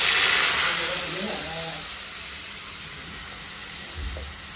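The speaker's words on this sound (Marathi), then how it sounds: "आता मी टाकते तेल." Oil poured into a hot, scorched kadhai gives a loud broad hiss and sizzle that fades slightly, with someone talking softly under it and a low thump near the end.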